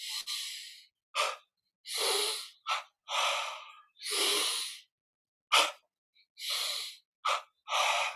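Deep guided yoga breathing with double inhales and double exhales, a close series of sharp, sniffing breaths and longer airy puffs separated by short silences.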